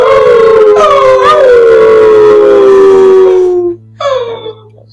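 A group of people imitate wolves with a long, loud, drawn-out howl that slowly falls in pitch, breaks off, then a shorter second howl follows and fades.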